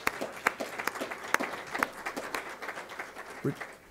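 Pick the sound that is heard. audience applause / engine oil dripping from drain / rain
audience applause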